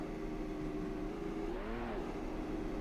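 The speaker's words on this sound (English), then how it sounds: "Here's a look at his burnouts. Flicks it down into reverse." An IndyCar-style race car in a sim racing game at Richmond does a burnout and drops into reverse, its engine droning steadily with a sweeping pitch shift midway, loud and close.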